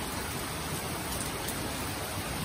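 Heavy monsoon rain pouring down steadily in Poona, a dense, even hiss of downpour with no break, fairly soft and distant-sounding.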